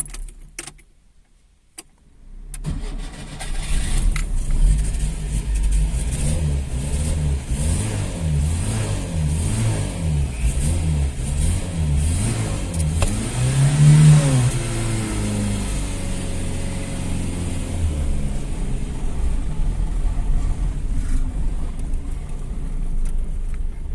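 A Škoda Favorit car engine starts with a clatter of keys and a cranking stutter, then idles and revs steadily up and down through a long, close, continuous run, with the pitch climbing midway before settling.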